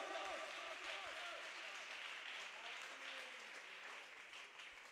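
Congregation applause during a sermon in Pasaquijuyup, heard as faint, steady clapping with voices mixed in, at a distance throughout.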